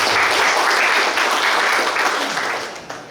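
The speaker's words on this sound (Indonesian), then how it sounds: "Terima kasih Bapak, tepuk tangan untuk Bapak." Applause from the audience at a Bali provincial government ceremony, a thick wash of many hands clapping that holds steady, then thins and fades over the last second.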